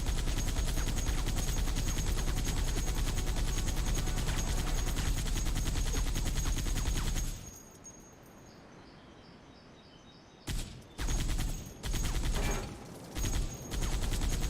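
A gun in a modded Halo 3 game fires in a dense, loud, continuous automatic stream for about seven seconds, then falls quiet before several shorter bursts return.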